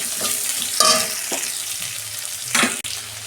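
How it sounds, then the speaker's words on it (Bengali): Onions and black cumin fry in oil left over from frying bogo fish, a close, steady sizzle broken by a few louder bursts as the pan is stirred, with no voices. "পেঁয়াজটা আমি লাল লাল করে 2 মিনিট ভেজে নেব।"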